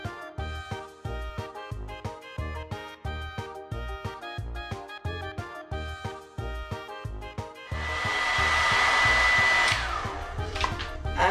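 A hair dryer blows steadily and loudly while drying a very large dog after its bath, with a rhythmic pulsing whir that shifts into a brighter, louder roar near the end.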